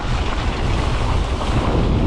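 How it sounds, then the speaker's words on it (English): Steady, loud wind roar buffets the microphone continuously while cycling downhill with a tailwind on a Highland descent between Killin and Loch Ossian, with no voices. "So nice with the wind behind us."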